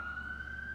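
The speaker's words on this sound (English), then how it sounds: "We've got the fire brigade, the police outside, the ambulance now" A faint, steady siren tone from emergency vehicles (fire brigade, police and ambulance) sounds from outside the building, distant and continuous over a low background hum.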